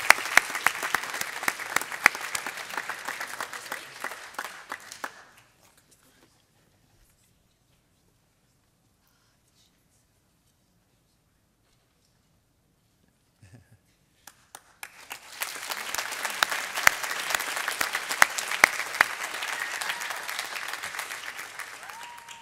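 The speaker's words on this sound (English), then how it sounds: "a warm round of applause and congratulations to Rang Medical." Audience applause at a wearables challenge award ceremony for the second-place winner: a burst of dense clapping that fades out, about ten seconds of near silence, then a second swell of clapping resuming strongly to the end.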